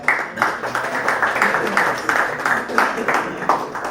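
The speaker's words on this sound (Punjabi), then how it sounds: "A big round of applause" Sustained, dense applause from a party audience celebrating selected Punjab patwaris as a candidate goes up on stage. The clapping swells in rhythmic pulses, with some voices faintly underneath.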